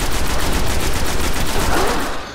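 Gunfire in the Destiny video game on PS4 during a Patrol mission, a dense continuous burst of rapid shots and explosions filling the whole stretch, loud and close.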